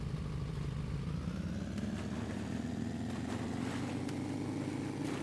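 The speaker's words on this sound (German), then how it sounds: "Das ist ein Motorboot, Leute." A motorboat engine in the video game Sunkenland drones steadily and loudly, its pitch rising slightly as it speeds up, with no talk over it.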